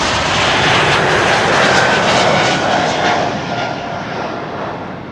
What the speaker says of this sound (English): E2 Embraer 195, KLM flight 1231 to Göteborg underway.